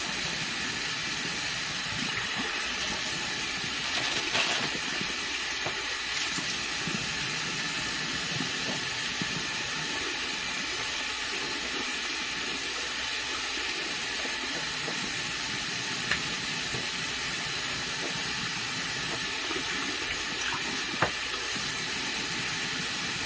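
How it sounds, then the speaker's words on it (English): Running water flows steadily from a tap as a toddler washes hands, a continuous close hiss lasting throughout with occasional small splashes and no talking. "You want to put your hands in the water and wash them?"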